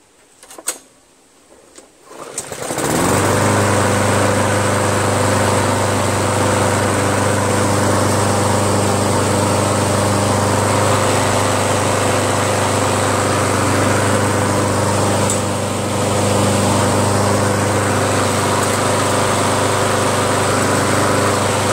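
Free Yardman self-propelled lawn mower with a Honda 5.5 hp engine, repaired with a makeshift cable, starts after a few faint clicks and then runs steadily and loudly close by, a constant droning hum with no talking.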